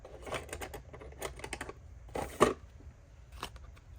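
Scissors snipping through a die-cut paper craft tag, a series of short crisp cuts in quick clusters with pauses, close and quiet, one sharper snip standing out.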